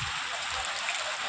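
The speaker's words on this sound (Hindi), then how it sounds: "तो दोस्तों देख सकते हैं कितनी तेज़ बारिश हो रही है।" Heavy rain falls steadily as a dense, even hiss close by, with a voice talking faintly underneath at the start.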